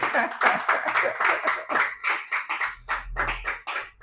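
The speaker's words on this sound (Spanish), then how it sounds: "Aplauso al rey bendito, ¿verdad?" A church congregation claps during a sermon, giving a run of fairly quick, close claps that fades toward the end, with voices mixed among them.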